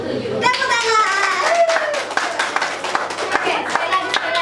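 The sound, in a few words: children clapping hands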